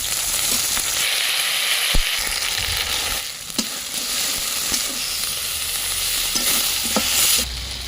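Masala sizzles and fries in a pan while being stirred, giving a steady hiss broken by sharp scraping clicks of the spoon, close and fairly loud with no talk.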